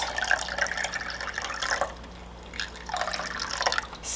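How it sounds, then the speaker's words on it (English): Water runs into an egg cooker holding eggs, a steady trickling pour broken by a brief pause before it resumes, close and fairly loud with no talking. "so I'm gonna add water up to 2 cups."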